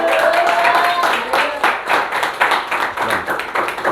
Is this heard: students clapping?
yes